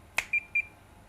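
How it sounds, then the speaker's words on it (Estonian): A kitchen timer gives two short, clear electronic beeps after a brief click, close and alone in a quiet kitchen while croissants of yeasted puff pastry bake. "Paneme taimerile ka mingi aja peale, 20 minutit."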